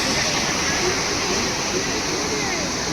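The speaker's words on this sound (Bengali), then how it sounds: "উপর থেকে ঝর্ণাটা কিন্তু কন্টিনিউ প্রবাহিত" Continuous rushing water from a waterfall pouring down near a hillside temple into a lake at Devkund, Odisha, a steady broadband roar that fills the whole stretch without pause.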